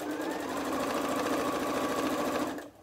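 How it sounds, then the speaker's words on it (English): A sewing machine stitches steadily around the corners of a quilted scissor keeper, a close, even motor whir with rapid needle rhythm that runs unbroken before cutting off near the end. "Sew into that next corner, 1/4 inch away, and pivoting that project again."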